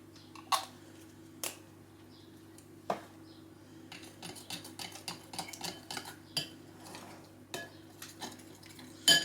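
A spoon scrapes and taps against set caramel on a keto peanut butter chocolate slab, with several sharp clinks spaced irregularly among a run of softer, busier scraping noises, close to the microphone against a low background hum.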